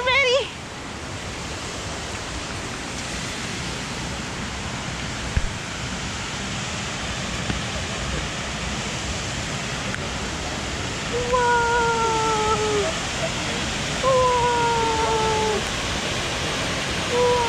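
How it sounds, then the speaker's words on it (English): Steady broadband rushing of a waterfall at Virginia Falls, Glacier National Park, fills the scene, with faint bird calls piping in near the end. "let's look at the waterfalls"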